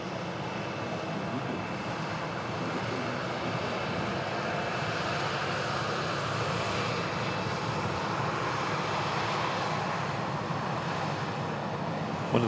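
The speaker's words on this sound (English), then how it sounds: "Oh, there's that BizJet again. Yeah, it's on its way back out." A business jet departs with a continuous broad engine roar, steady and moderately loud across the whole stretch, mixed with some wind noise and no talk.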